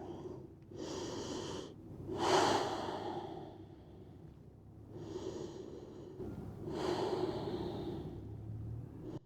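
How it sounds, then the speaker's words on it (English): Slow, deep breaths during a hip-opening yoga stretch in pigeon pose, each long inhale and exhale heard close and alone, with airy rising and falling swells. "We'll take 3 deep breaths here."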